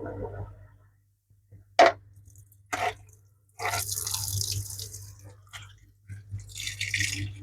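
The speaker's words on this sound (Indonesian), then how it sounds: "sambil kita remas-remas ya, seperti ini. Kita buang dulu airnya." Water dripping and splashing as a soaked Epson L210 printer ink pad is squeezed by hand, with a few sharp drops followed by a longer trickling, wet pattering, close and without talk.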